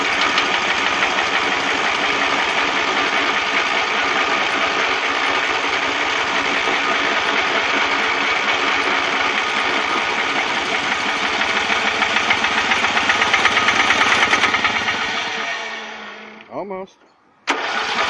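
A free riding mower engine runs loud and rough at a steady roar for about fifteen seconds, then sputters, dies down and cuts out, with a brief restart burst at the very end.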